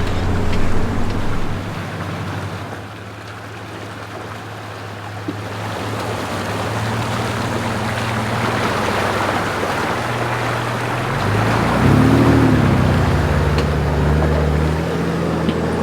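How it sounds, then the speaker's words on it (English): A vehicle towing a trailer grinds slowly through a rocky river crossing in the Victorian High Country, with rushing water and splashing, a steady engine rumble, and a louder surge of motor noise near the end. "We're into the river crossings now. Fairly rocky, these ones, so slow and steady."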